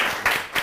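Audience applause at the opening of an international area at a FAES 2022 campus event, a brief wash of dense clapping with a few louder surges, no voices on top.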